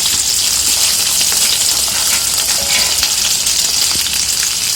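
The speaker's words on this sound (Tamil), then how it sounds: "வெங்காயமும் பூண்டும் நல்லா வதங்கிட்டு கொஞ்சம் கருவேப்பிலை சேர்த்துக்கலாம்" Small whole shallots and roughly twenty garlic cloves sauté in oil in a pan for a garlic thokku, giving a loud, steady, dense sizzle that runs unbroken throughout, with no talking.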